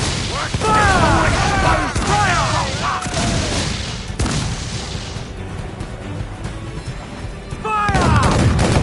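Pirate ship cannons fire a broadside at sea in Assassin's Creed Black Flag, a series of heavy booms and rumbling blasts over several seconds, with crew shouting and whistling tones over the barrage.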